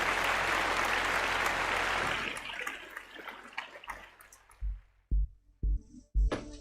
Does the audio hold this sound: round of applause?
yes